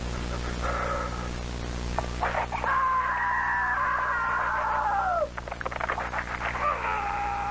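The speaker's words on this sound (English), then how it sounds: "Are you using that one SCP screaming noises?" Harsh, wavering screams rise and fall against a steady low hum in a horror analog-style SCP scene. A long sustained shriek bends downward near the end, followed by a shorter cry after a brief gap.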